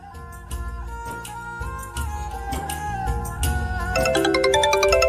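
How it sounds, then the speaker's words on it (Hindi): A melodic electronic ringtone plays loudly and repeats, its chiming phrase building in pitch toward the end, with no speech. "ये तेरा फोन बज रहा है।"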